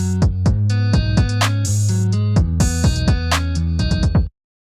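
Loud trap beat made in FL Studio, deep 808-style kicks with snappy claps and fast ticking hi-hats in a tight repeating groove, ending with a sudden stop.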